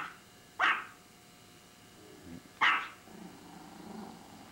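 Two sharp dog barks, about two seconds apart, fairly close, with quiet room noise between them.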